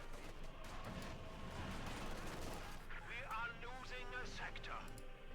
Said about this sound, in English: We're actually going to use the light machine guns.